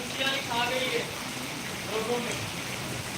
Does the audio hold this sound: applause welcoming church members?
no